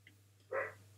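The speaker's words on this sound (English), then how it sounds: "Why is a dog barking?" A lone dog gives one short bark at some distance, heard against a quiet indoor background with a steady low hum.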